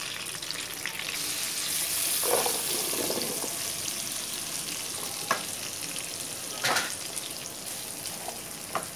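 Butter melting in a pan on the stove as part of a home Christmas dinner, giving a steady close sizzle with a few louder bursts of spitting and a soft scrape of stirring, with no voices.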